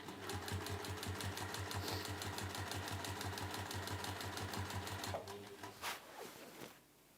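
A sewing machine stitches down a tote bag seam in a fast, steady mechanical rhythm for about five seconds, then slows and stops with a few softer handling clicks.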